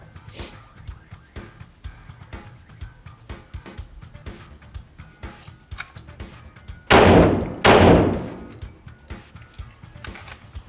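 At a shooting range, two loud gunshots crack about a second apart, sharp and close after a stretch of quiet clicks and light handling noise.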